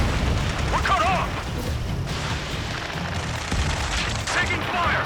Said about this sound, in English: Taking fire! We're pinned down! Shoot back!